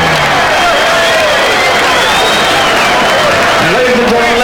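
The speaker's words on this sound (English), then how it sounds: "let's have a round of applause for a great display of courage" A heavyweight boxing crowd roars and applauds at a fight with Evander Holyfield, a loud continuous wall of cheering and whoops, with a ring announcer's amplified voice running over it.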